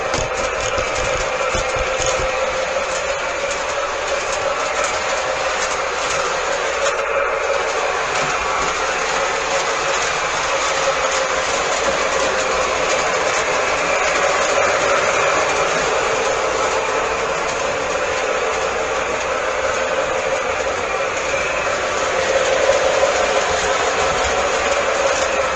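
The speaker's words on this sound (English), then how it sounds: "Nice to actually see the right color diesels pulling that train" A train pulled by diesel locomotives rumbles past steadily with a continuous broadband roar and low engine drone, holding constant loudness throughout with faint rhythmic clatter of wheels.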